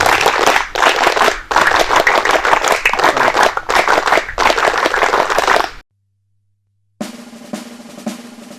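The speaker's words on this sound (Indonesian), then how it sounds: "Dua kali tepuk pramuka." Scout troop clapping the tepuk pramuka in unison at a morning opening assembly for a Scout Day camp at a pesantren, a loud, dense burst of sharp claps for several seconds, then a pause and a fainter closing flurry.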